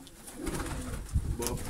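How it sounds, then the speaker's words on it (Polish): Pigeons inside a dovecote coo in a low, continuous murmur, close and moderately quiet, with a few soft bumps and rustles. "Trochę sobie grukają."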